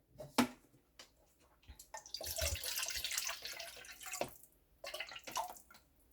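Plain water is poured in over green and gold kiwi for juice, giving a couple of close, rushing pours with short pauses and small clinks between them.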